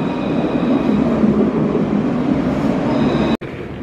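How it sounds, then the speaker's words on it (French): A tram at Valenciennes railway station produces a loud, steady low rumble of rolling rail traffic that lasts throughout, with a brief sharp dropout near the end. "Il y a le tram."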